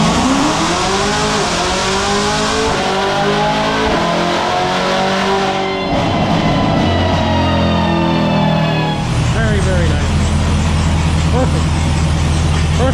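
A tuned 900 hp Corvette C7 ZR1 roars under load on a dyno, its engine climbing in pitch through gear shifts, loud and sustained, with a voice speaking over it.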